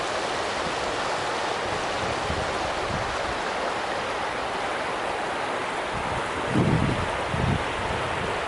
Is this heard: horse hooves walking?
no